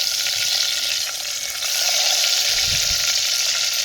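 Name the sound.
boiled eggs frying with onions in clay pot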